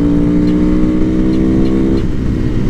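A motorcycle engine runs steadily close by, a loud continuous mid-pitched drone with a rough low rumble that shifts slightly toward the end, alone without talk.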